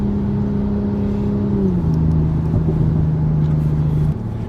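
Idling engine of a 2020 Toyota Supra GR Launch Edition, a close, steady low hum that dips slightly in pitch midway and then settles before cutting off abruptly near the end.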